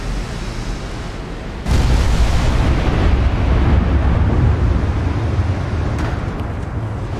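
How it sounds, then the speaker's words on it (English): In a naval video game, a battleship takes torpedo hits, and a sudden, loud, roaring explosion breaks over a steady low rumble and keeps thundering for several seconds. "Oh, big hits and flooding on the second battleship."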